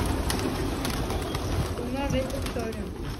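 Pigeons in a box and shared coop coo softly and intermittently, with soft flutters, beneath people talking nearby outdoors.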